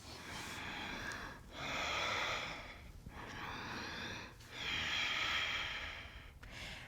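Slow, deep breathing during a yoga practice, long drawn inhales and exhales alternating steadily, close and soft with no talk.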